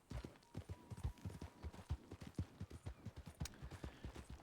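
Horse hooves clip-clop in a steady, close, rhythmic gait across an 1881 Old West video game setting, a brisk run of sharp, even hoofbeats with no voices.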